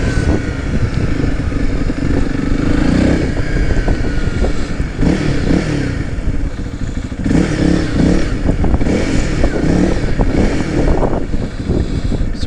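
Honda CRF 300L dual-sport motorcycle riding outdoors, its engine droning steadily with rises and dips as gears change, including a missed shift, amid constant loud wind rush over the microphone.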